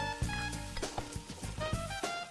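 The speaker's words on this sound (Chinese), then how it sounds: "把蒜的香味炒出来。" Chopped garlic and red chili sizzle and crackle in a hot wok, punctuated by the clatter of a spatula stirring at an uneven pace, close and fairly quiet.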